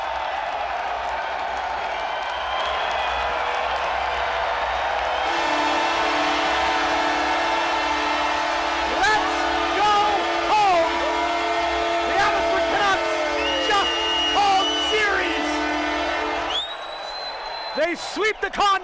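A sold-out hockey arena crowd roars steadily after a playoff series sweep, with a sustained horn-like blare and whistling tones running through the loud, continuous cheering before it tapers near the end.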